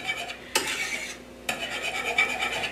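Barbecue sauce ingredients being whisked together for baby back pork ribs, a steady close scraping and rasping of the whisk in a bowl with two sharper strokes standing out, no talking.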